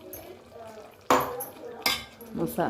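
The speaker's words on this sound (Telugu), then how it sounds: "ఒకసారి బాగా మసాలా అంతా మటన్ పట్టే విధంగా కలుపుకోవాలండి" A spoon stirs masala through mutton in a metal pot, giving sharp scraping clanks and clinks in three or four bursts over a soft background, with a little quiet speech.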